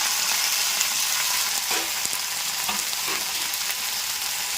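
Chopped broad beans and tomatoes hitting a pan of fried onions give a steady, close sizzle with occasional light scrapes and ticks of stirring throughout.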